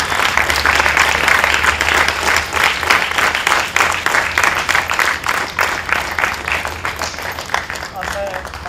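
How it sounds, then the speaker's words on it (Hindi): A theatre audience at a drama academy performance of a folk play applauds loudly and steadily for several seconds, with a presenter's voice speaking over the clapping. "जोरदार तालियां"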